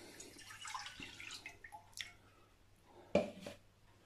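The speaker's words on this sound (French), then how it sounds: "On met de l'eau à chauffer." Water splashes and drips into a pot being filled to heat for choux pastry dough. Soft, scattered drips and trickles are followed by a single louder clunk and splash near the end.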